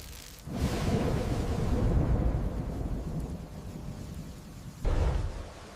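A thunderstorm rumbles with a long, heavy roll of thunder under steady rain and wind, then a second sharper burst near the end.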